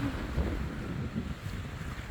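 Steady wind at a kitesurfing spot buffets the microphone with a low, rumbling roar, constant and fairly loud, with no voices.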